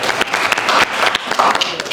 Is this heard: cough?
no